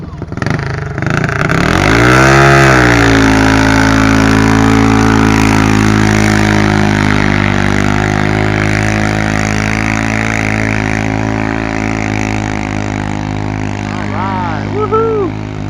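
A drag racing car engine running alcohol, nitrous and turbos roars loud and close, revving up then holding a deep steady drone with a sharp rising whine near the end, a voice talking over it.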